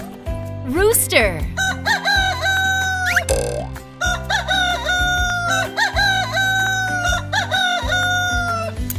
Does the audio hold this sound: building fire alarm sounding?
no